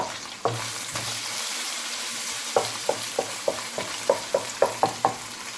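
Garlic stir-fried in a hot pan for pad thai sizzles steadily while a utensil scrapes and clacks in a quick, fairly regular rhythm of about a dozen close, crisp strokes.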